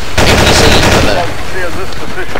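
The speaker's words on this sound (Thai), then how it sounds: "โดนยิงหลายนัดไม่รู้ตัวครับ" Loud, sustained machine gun fire from the Battlefield AIX mod rattles in a rapid continuous burst close up, with a voice talking over the shooting.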